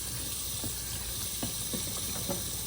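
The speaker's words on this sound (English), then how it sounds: "I'm gonna rinse the hair off of the stone." Tap water runs steadily as a sharpening stone is rinsed of shaved hair, a continuous close splashing wash with a few small drips and knocks in it.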